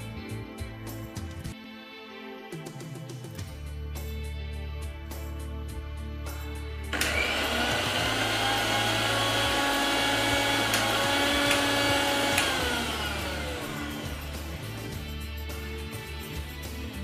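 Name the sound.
mixer grinder grinding crispy roasted chickpeas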